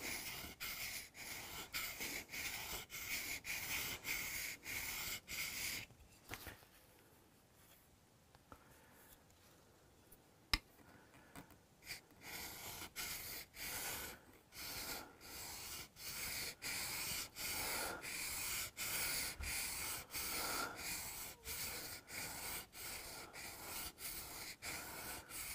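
A blade bevel is honed at a 20-degree angle during a luthier's restoration of a Hofner Galaxie guitar, with steady, evenly spaced rasping strokes, a short quieter pause partway through, then more rhythmic strokes, all close and fairly soft.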